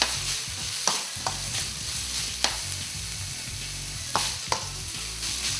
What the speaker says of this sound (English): And then add the ginger. Fry that for like 3 minutes.